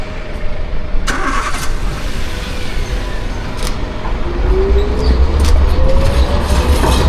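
A Sheffield Supertram rumbles past with a steady low drone, growing louder toward the end, with a faint rising tone and occasional clanks.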